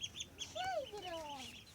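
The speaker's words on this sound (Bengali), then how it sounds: "এই হাঁস কার?" A hobby-kept duck gives a short series of nasal, honking quacks that rise and fall, fairly close and alone over a low background.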